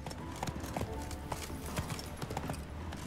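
Horse hooves clip-clop at a steady trot in Witcher 3, a brisk rhythmic run of sharp close knocks over a low ambient bed.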